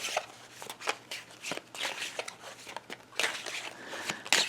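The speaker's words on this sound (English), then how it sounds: "So let me get the cards shuffled." Tarot cards are shuffled by hand, giving quiet, close, uneven riffles and soft flicks over a low steady hum, with no talking.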